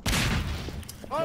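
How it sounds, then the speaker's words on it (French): Explosions and gunfire in the video game Garry's Mod: a loud blast fills the opening, a rumbling tail and a few sharp pops follow, with a short tonal effect near the end. "Balancez les grenades."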